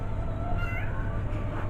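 A cat meows indoors, a short drawn-out mew heard over a steady low hum of the room.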